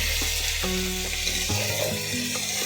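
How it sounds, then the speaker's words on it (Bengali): Chopped tomatoes frying in a pan for sago pulao, heard as a steady close sizzle under a low background hum, with no voices. "টমেটোগুলো ভাজা হচ্ছে"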